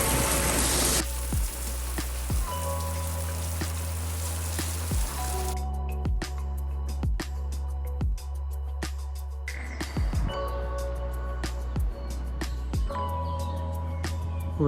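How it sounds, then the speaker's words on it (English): Rain falling on a garden patio, a steady fine patter over a low steady hum, with sharp clicks and knocks repeating throughout. "the one thing that we can be sure of in this country is the rain"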